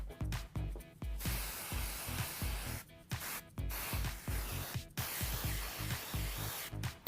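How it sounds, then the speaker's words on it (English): Tresemme Root Touch-Up hair spray sprayed onto braided hair, repeated short hissing bursts of aerosol spray close by with brief pauses between them, alone without talk. "I'm just going to use the Tresemme Root Touch-Up Spray"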